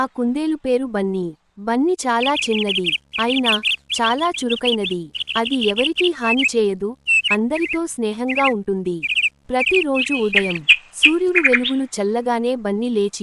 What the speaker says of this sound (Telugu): చుట్టూ పక్షులు కిలకిల అరుస్తూ